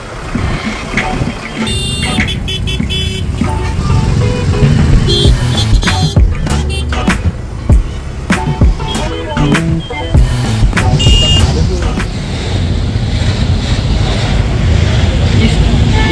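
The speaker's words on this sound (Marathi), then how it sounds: "आम्ही ट्रॅफिकमधनं निघतो बाहेर आणि मग तुम्हाला भेटतो." Busy Indian road traffic on the way to Sandhan Valley, with a truck overturned ahead: a steady loud rumble of engines with repeated horn toots and beeps throughout, close by, with no talk.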